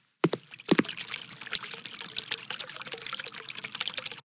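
Looping water ambience in a Unity 3D scene, a steady broadband wash like pouring or trickling water, with a few louder splashy bursts at the start, then an even, continuous flow that cuts off abruptly.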